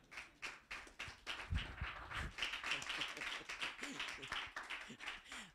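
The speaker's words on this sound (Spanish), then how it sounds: "Bríndele un aplauso al Señor" A church congregation claps for the Lord during a sermon, a faint, rhythmic patter of many hands in quick succession, with voices calling out over it.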